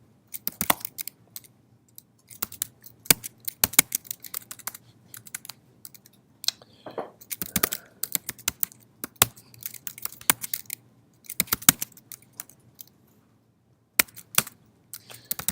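Close, crisp clicks of typing on a computer keyboard come in bursts of rapid keystrokes separated by short pauses, with a faint steady hum underneath and no talking.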